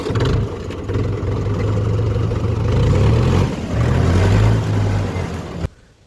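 A farm tractor's engine rumbles in a low, steady drone close by, its revs rising and easing a couple of times before the sound cuts off abruptly.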